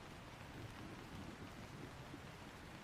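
Steady rain falls throughout, a dense continuous wash of drops with a low rumble underneath that may be distant thunder, heard at a quiet level with no talking.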